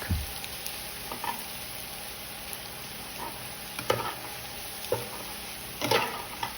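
Ground pork fries in a pan with a steady soft sizzle, while a spatula stirs it in a few short scraping bursts spaced a second or so apart, close and fairly quiet.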